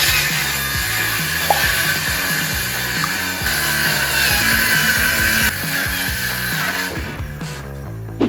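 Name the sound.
power saw cutting plywood board in half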